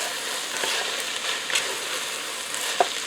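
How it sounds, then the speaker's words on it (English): Stuffed pepper soup with black pepper and Italian seasoning gets a quick stir in a Curtis Stone multi cooker: a soft, continuous sizzle with a few light scrapes of the spoon near the end. "Give that a quick stir."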